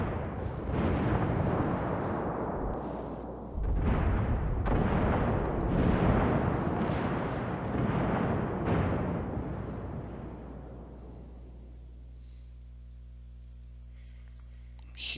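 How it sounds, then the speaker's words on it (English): Heavy gunfire and blasts rumble in the battle royale game Rules of Survival, a run of loud, thick booming bursts that gradually fade into a low ambient hum. "I'm hearing people shooting, but I don't see anybody."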